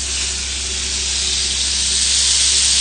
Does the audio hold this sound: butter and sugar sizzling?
yes